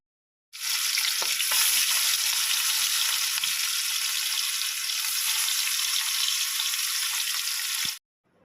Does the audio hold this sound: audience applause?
no